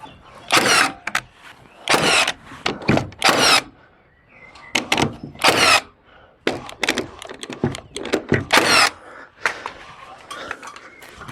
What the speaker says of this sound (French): S'il est bien droit, je cloue.